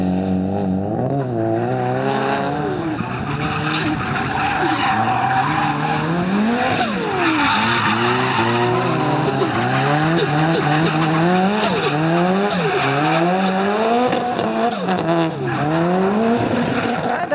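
Drift car sliding through repeated transitions, tyres squealing loud and continuous with rising and falling screeches over a revving engine, close by throughout.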